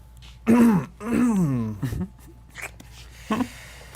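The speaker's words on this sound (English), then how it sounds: "Let me clear my throat." A person clears their throat with a couple of voiced, rasping bursts, followed by a few softer, shorter throat noises.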